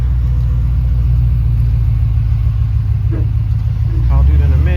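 A Chevrolet Impala riding on 26-inch forged wheels rolls over bumps, its engine giving a steady loud low rumble with some thumping from the road, heard from inside the car.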